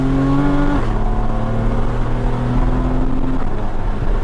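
A Porsche Cayman 981 engine droning steadily from inside the car while driving, loud and close, its pitch stepping down at a gear change and then holding an even hum, with no talking.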